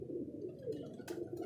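Pigeons in a breeding setup coo softly at midday, a low, continuous burbling that sounds quiet and close.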